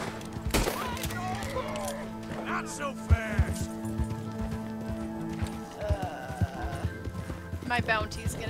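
A horse gallops in Red Dead Redemption 2, with rapid hoofbeats running under layered game music and effects and a brief whinny-like cry.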